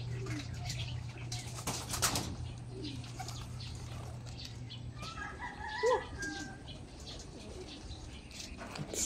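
Pigeons coo softly amid rustling and fluttering inside a pigeon loft, with a low hum fading out partway through.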